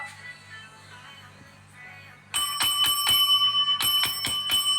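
A bell rung during a live-stream watch auction: a quiet room hum, then a loud run of sharp, bright rings struck in quick succession, ringing on with a sustained metallic tone.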